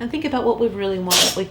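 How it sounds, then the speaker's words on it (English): A house cat recovering from a cold sneezes once behind someone speaking indoors, a brief sharp burst near the end under her steady talk. "That was another kitty sneezing behind me here."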